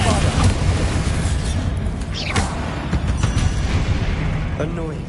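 Bombarda and Confringo spell explosions in the video game Hogwarts Legacy rumble as a continuous loud barrage of booms and thuds, with a few sharper bursts standing out over a heavy low roar.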